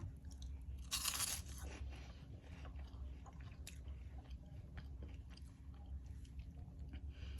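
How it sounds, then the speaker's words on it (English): Close, crisp crunching and chewing of hot honey flavoured puffed corn curls, with a loud bite near the start followed by steady, softer mastication and no talking. "they have a nice crunch, not too crunchy"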